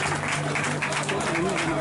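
An audience claps steadily throughout, a dense wash of applause over a faint low hum and some background murmur.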